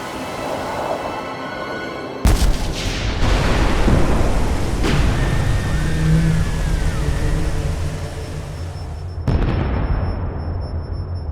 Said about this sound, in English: the torpedo met its mark